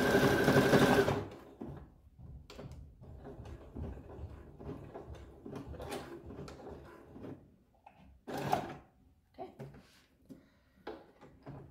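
A sewing machine stitches a line along the bottom of a modified Kantha kimono, with a loud continuous run at the start followed by shorter intermittent bursts and handling noises, with faint talk in the background.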